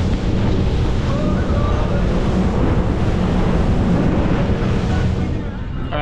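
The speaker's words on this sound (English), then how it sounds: "Big waves. And big waves." Big ocean waves and strong wind roar over a fishing boat heading out to the tuna grounds, a loud, continuous wash of surf with heavy wind buffeting the microphone throughout.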